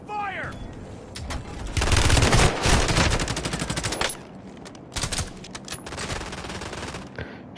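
Gunfire in Call of Duty, with bursts of automatic fire and fusillades rising to loud sustained volleys, then scattered shots among game effects and brief voices.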